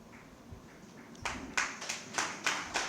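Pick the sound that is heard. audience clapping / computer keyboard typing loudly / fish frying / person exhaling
audience clapping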